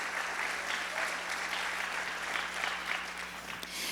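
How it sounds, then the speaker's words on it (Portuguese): A church worship crowd applauds, a dense continuous wash of clapping heard from within the congregation, steady and fairly loud for the whole stretch. "Então aplauda ele nessa noite."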